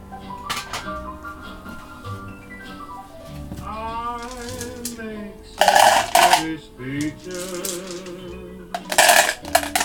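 A handful of dice rattle and clatter together across a board game table in two loud bursts, with someone talking beforehand and between throws.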